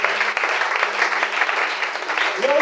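Church congregation applauding loudly and steadily, a dense wash of clapping hands filling the room, with voices calling out among the claps.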